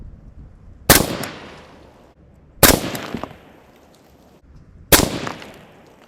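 Three loud, sharp AR rifle shots fired at a 25-yard range line, spaced roughly two seconds apart, each a crisp crack with a trailing echo.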